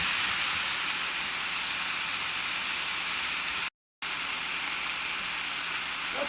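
Tap water runs in a steady broad hiss while ground beef is washed in the kitchen, continuous and fairly loud with one short cut of silence partway through.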